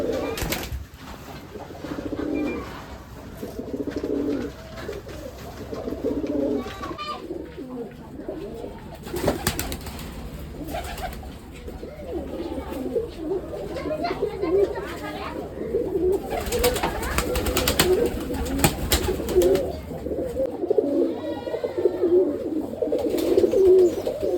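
Giribaj pigeons coo in winter sun, a steady murmur of overlapping low calls running throughout, with occasional wing flaps and faint voices mixed in.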